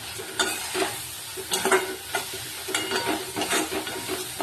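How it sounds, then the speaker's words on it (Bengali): Beetroot frying in oil with cumin, coriander, turmeric, chilli powder and salt is stirred in a pan. Repeated scraping strokes sound over a continuous sizzle, close and fairly loud, with no talking. "জিরে গুঁড়ো, ধনে গুঁড়ো, হলুদ, লঙ্কার গুঁড়ো, নুন এইসব দিয়ে ভালো করে নেড়ে ছেড়ে কষিয়ে নিচ্ছি।"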